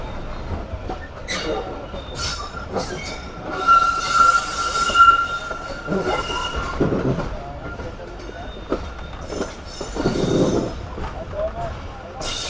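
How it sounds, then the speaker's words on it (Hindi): Karakoram Express passenger train with old coaches crossing from a platform line onto the main line, wheels squealing loudly and continuously over the points, with a faint rhythmic clatter beneath and a few indistinct voices. "फाइनली प्लेटफॉर्म लाइन से मेन लाइन पर आ गई है ट्रेन हमारी"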